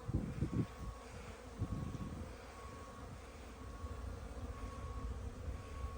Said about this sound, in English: it is nice to see some bees flying